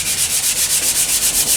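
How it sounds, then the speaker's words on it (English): Body filler on a car's quarter panels being sanded with 320-grit paper in quick regular back-and-forth strokes, a loud rhythmic rasp of about ten even passes heard up close, with no talking. "finish our little filler sanding right up"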